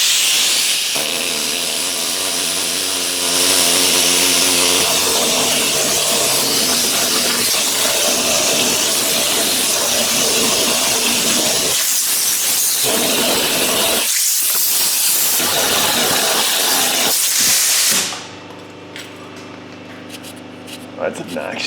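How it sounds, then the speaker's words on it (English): Pneumatic needle scaler hammering rust out of a Subaru rear wheel bearing housing, a loud continuous rattling hiss that runs steadily for about eighteen seconds before cutting off, with a leaky air line and someone talking over it. "We're just going to use the old needle scaler."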